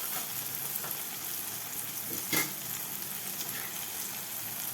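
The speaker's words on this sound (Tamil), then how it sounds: "நம்ம போட்ட தக்காளியும் ஒரு வழியாக வதங்கிடுச்சுங்க" Tomatoes sauté in a pan for a dried-fish gravy, giving a steady, soft sizzle throughout with a brief louder clatter of stirring midway; no one speaks.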